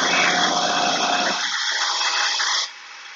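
A Shopsmith grinding wheel runs while honing a jointer knife, producing a steady, close grinding hiss whose lower part drops away midway before the sound thins near the end.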